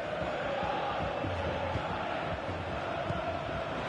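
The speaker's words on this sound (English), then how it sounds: "the crowd have been brilliant" Football stadium crowd roaring steadily to drive the home team on late in a match, a dense continuous wash of chanting and cheering.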